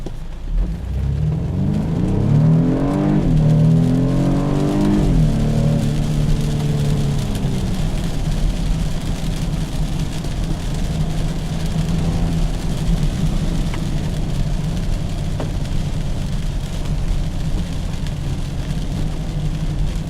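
A 2015 BMW 428i in Sport Plus accelerates hard from inside the cabin, the engine note rising through the revs, then easing into a steady cruising drone with road and rain-like noise underneath, no talking.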